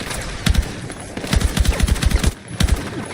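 Rapid bursts of automatic gunfire in the video game Battlefield 6, three clustered volleys of sharp shots, loud and close with short gaps between them.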